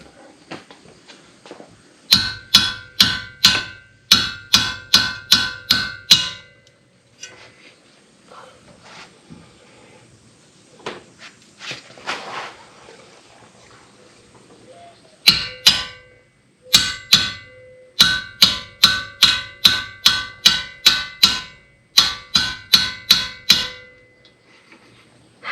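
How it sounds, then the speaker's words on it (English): Hammer blows ring off a wrench held against a bolt head during a Subaru front wheel bearing job: two long runs of sharp, evenly spaced metallic clangs, close and loud, separated by a quieter stretch of shuffling and handling. "hit the top with the hammer"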